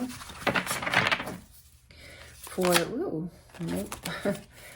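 Tarot cards being shuffled by hand, giving soft riffling and flicking bursts in short clusters, while a voice talks intermittently across the clip.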